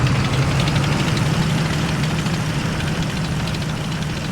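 A T-34 tank engine idles in a video game, a steady, dense low rumble with a knocking pulse, loud and close with no other sounds.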